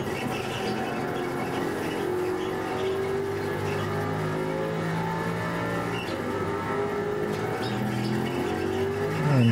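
A race car engine at Mid-Ohio in the iRacing simulator drones steadily down the front straight, harmonic pitch lines slowly climbing as it accelerates, with another car close ahead and a rising note at the very end.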